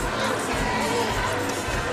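A boxing crowd at a women's bout in Rosarito, Mexico, roars in a dense, continuous wash of cheering and clapping, loud and unbroken.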